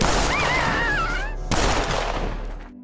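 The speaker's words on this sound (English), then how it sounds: "Butcher walks in and puts a bullet in Dylan's head" A single sharp gunshot cracks out suddenly partway through, loud and close, after a brief high wavering tone, then decays into a fading rumble.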